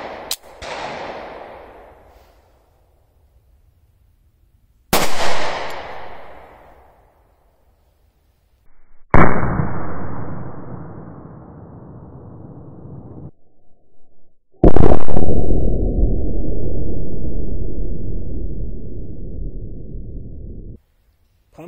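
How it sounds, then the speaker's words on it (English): A .45 ACP pistol firing G2 Research Telos rounds outdoors at a pumpkin target: four loud, sharp reports spaced several seconds apart, each trailing into a long rumbling echo, with no talking. "I'm going to pop a Telos round through it and see if we can get a better outcome."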